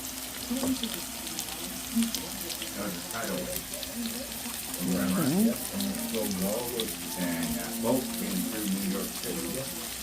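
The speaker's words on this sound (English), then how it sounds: "Okay, now I've added the liver to that pan." Liver sizzling in a hot pan with oil, a steady close frying hiss with occasional clinks and shifting, while a person talks over it at times.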